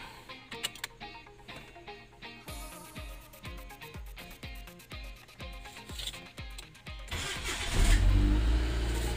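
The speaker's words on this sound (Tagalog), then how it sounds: "paandar natin ngayon yung sasakyan" A car starts cold with a cranking chatter, then catches and settles into a steady idle, rising to a louder rev near the end, heard close up without talk.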